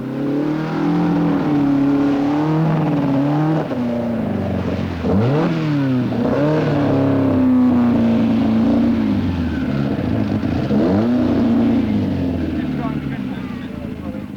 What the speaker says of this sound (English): Part of the thorough preparation, driving the car through a lake.